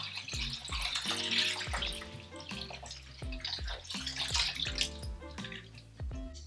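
Dissolved gelatin mixture for a raspberry dessert is poured into a dish, giving a steady liquid trickle and splash for several seconds, layered with background music and no talking.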